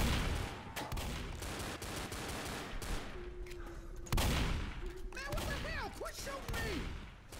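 Left 4 Dead gameplay with bursts of close gunfire, sharp shots over a busy game backdrop, followed by squealing infected cries and other game noises.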